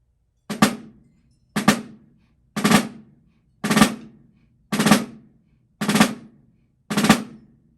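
A snare drum sounds seven evenly spaced strokes, each a crisp flam-like attack with a quick grace note before the main hit in right-left-right sticking, close and alone with short decays and silence between.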